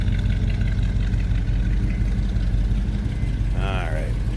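A 1956 Buick Special Riviera with a nailhead V8 idles with a steady, deep, even rumble close by, holding constant throughout, with a brief high chirp near the end.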